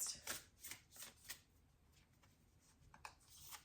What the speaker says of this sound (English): So then let's get a Moonology card next.